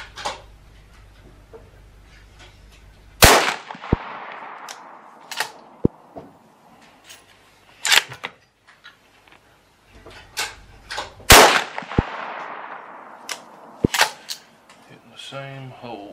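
.223 rifle shots at a target ring out as sharp, loud cracks spaced several seconds apart, with smaller clicks and handling noises between them and no talking.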